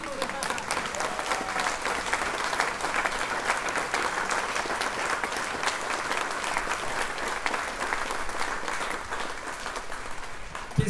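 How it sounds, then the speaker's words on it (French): Fellow Golden Globe Race sailors, fifteen of them, applaud at a prize-giving ceremony, a steady dense clapping that lasts throughout with murmured voices underneath. "les 15 autres marins de la Golden Globe Race qui vous applaudissent là"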